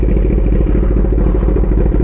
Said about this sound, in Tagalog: Ibang iba talaga ang tunog ng inline 4.